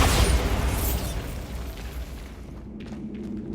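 Bombarda blasting spell going off in the video game Hogwarts Legacy: a loud, close, bass-heavy explosion that booms at once, then rumbles and decays over a few seconds with scattered debris crackle.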